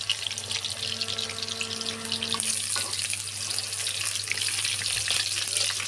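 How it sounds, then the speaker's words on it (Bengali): Chicken pakoras deep-fry in hot oil, a steady fine sizzle and bubbling that grows busier and brighter partway through, close and continuous over a low electrical hum, with no talking. "চিকেন পকোড়াগুলো সুন্দর করে লাল লাল করে ভেজে নিচ্ছি"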